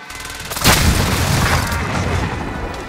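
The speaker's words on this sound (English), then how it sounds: "Prepare for airstrike. This is Phoenix 3. Strike inbound." A loud, booming airstrike explosion in Call of Duty Warzone on the Caldera map, a sharp blast followed by a long rumbling decay, with no talk over it.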